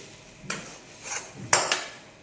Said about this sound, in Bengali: এবার এটাকে কষিয়ে নেব ভালো করে।